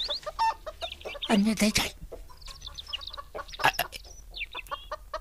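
Chickens cluck and squawk nearby in a lively, irregular chorus, with a person speaking briefly among them.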